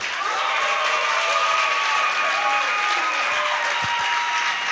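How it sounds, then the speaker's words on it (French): Steady, loud applause from a studio audience on a TV show set, a continuous dense clapping with cheering voices mixed in, holding an even level throughout. "Est-ce qu'on peut l'applaudir là?"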